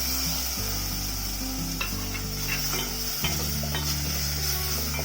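Chopped onion and tomato sautéing in oil with salt for a broccoli soup, a continuous close sizzle with clinks and scrapes of a spoon stirring the pan, no talking.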